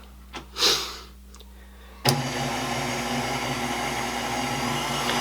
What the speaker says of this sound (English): we're just going to knead the dough on the dough hook here for 2 to 3 minutes on low speed